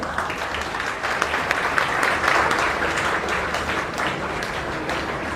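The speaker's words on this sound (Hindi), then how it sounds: "डॉक्टर साहब के लिए ताली बजाई जाए।" A classroom of students clapping together to welcome a doctor arriving at an alcohol lecture, a steady wash of many hands applauding loudly and evenly from start to finish, with no talking over it.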